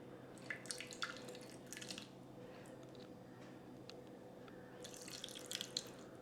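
Two ladles of liquid poured into pazhankanji, fermented rice soaked in water, in a village kitchen: soft, close splashes and drips in short bursts at the start and again near the end, with quiet gaps between.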